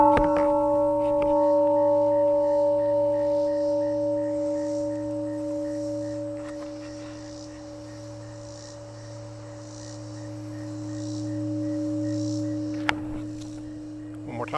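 A large, heavy hand-forged steel temple bell, about 100 pounds and powder coated, rings after being struck with a baseball on a stick. Steady sustained tones hum on and on with a slow, gentle swell in level, and a faint second tap falls near the end.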